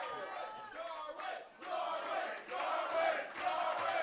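A wrestler lets out a shrill, banshee-like scream after a huge dive, swelling over a roaring wrestling crowd that cheers continuously and loudly throughout.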